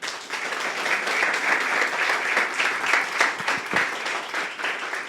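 A church congregation applauds steadily, with a broad, even roar of many hands clapping together, moderately loud and sustained for the whole stretch, without distinct talking.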